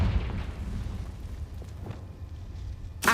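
A Confringo spell explosion in the PC game Hogwarts Legacy: a low, booming rumble rolls on steadily, then a sharp, loud blast bursts out right at the end.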